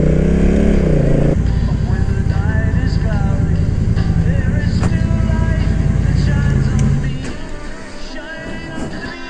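Scooter and other motor vehicles riding past in traffic, a continuous engine drone with revving that swells and then drops away near the end.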